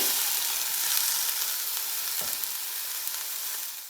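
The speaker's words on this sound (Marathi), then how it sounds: "टोमॅटो एकदम मऊ होईपर्यंत आपल्याला चांगला परतून घ्यायचा आहे" Chopped onion and tomato sauté in hot oil in a pan, giving a dense, even crackling sizzle that runs steadily throughout, close and fairly loud, with one soft scrape of stirring.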